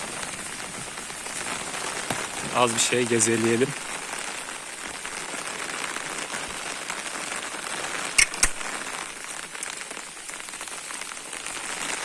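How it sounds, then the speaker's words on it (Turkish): Steady rain pattering on a surface, a constant hiss of drops, with someone speaking briefly over it and a couple of sharp knocks later. "Çok hızlı yağdı yağmur."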